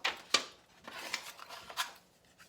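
Scissors snipping paper to cut out an oval shape, a few quiet crisp snips spaced irregularly over a couple of seconds, close and alone with no voice.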